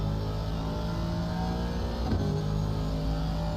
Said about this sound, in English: Aston sounds absolutely amazing.